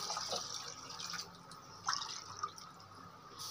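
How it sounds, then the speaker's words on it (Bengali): Heated water poured into a pot of chicken, rice and dal khichuri on the stove, a soft steady trickle with a few drips and splashes, faint and close, no voices. "দেখো জলটা আমি বসিয়ে দিয়েছিলাম, একটু গরম হয়েছে। এবার আমি ওতে ঢেলে দিচ্ছি।"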